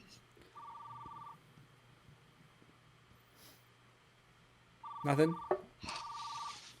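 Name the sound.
telephone ringing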